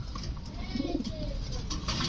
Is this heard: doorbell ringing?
no